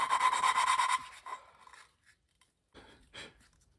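An engine valve, apparently from a 2005 Lexus ES330, is spun back and forth against its seat with lapping compound, giving a close, loud gritty rasp for about a second, then softer scattered scraping strokes after a pause.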